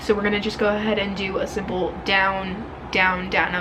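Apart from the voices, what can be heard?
No distinct noise like a dog, phone or traffic.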